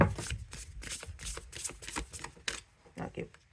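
Matte oracle cards being shuffled overhand, a quick run of soft close riffling flicks in uneven bursts, with a voice speaking quietly alongside.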